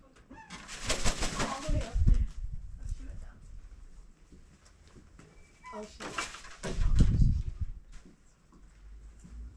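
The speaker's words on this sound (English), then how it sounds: "in this enclosure here we have a couple different species of birds" Birds call and coo in an enclosure at a North Florida wildlife center, several close calls amid rustling and occasional knocks, while a person talks nearby.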